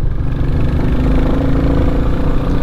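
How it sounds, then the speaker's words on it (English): 2022 Royal Enfield Classic 350 motorcycle engine running with a steady, close, loud thumping drone and no talk over it. "It's the engine sounds epic. It's got a great thumpy note to it"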